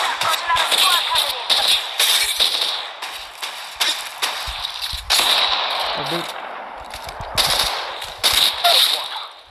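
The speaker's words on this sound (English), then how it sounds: "Shooting." Rapid bursts of automatic gunfire in the battle-royale game Apex Legends Mobile crackle almost nonstop, loud and close, with dense repeated shots layered over a steady bright background and game effects.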